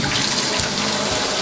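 Tap water running over a MAIFANSHI non-stick frying pan being rinsed after washing with hot water and dish soap, a loud close steady gushing spray with splashing, uninterrupted and without talk.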